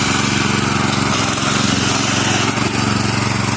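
A tractor tilling soil in a kiwi orchard, its engine running as a steady, loud, continuous drone with a throbbing low rumble throughout, no speech.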